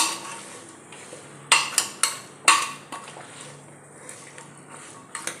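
A metal spoon stirs chopped potato into chole in a pot for Kolhapur-style chole bhature, with close, irregular clanks and scrapes against the pot in short bursts between quieter stretches of soft stirring.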